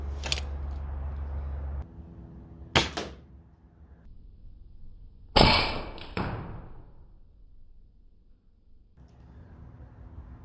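A Sabre ApexPrime crossbow fires at an apple perched on a styrofoam head outdoors, giving a few sharp, separate snaps and thuds with quiet gaps between, the loudest a crisp release followed by a brief decaying ring.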